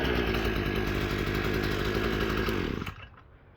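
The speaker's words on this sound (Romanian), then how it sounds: "Pornim drujba." A Parkside PBK 4 B3 petrol 4-in-1 multi tool runs as a chainsaw, a loud, steady two-stroke drone close by that cuts off abruptly near the end, leaving quiet.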